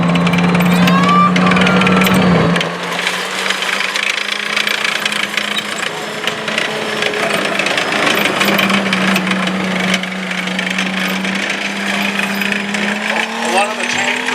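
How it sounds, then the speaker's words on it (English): A heavy tank's engine runs with a loud rumbling drone that settles into a rough, knocking idle after a brief surge, close by at an outdoor reenactment, with voices faintly underneath. "Looks like a big heavy tank"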